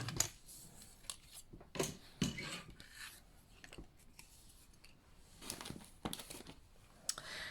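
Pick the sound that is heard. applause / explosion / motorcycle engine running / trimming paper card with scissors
trimming paper card with scissors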